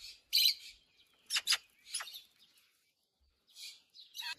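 Three rescued young magpie chicks chirp while being hand-fed, giving short, shrill, begging calls in scattered bursts with quiet gaps between them, close to the microphone.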